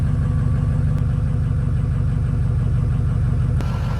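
A diesel truck engine idles steadily and loudly up close, a continuous rumbling drone with an even pulse and a faint tick or two, no talk.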